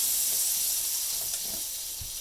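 A hot griddle pan greased with butter and oil gives off a steady, close, soft steaming hiss that holds evenly for the whole stretch, with no voices over it.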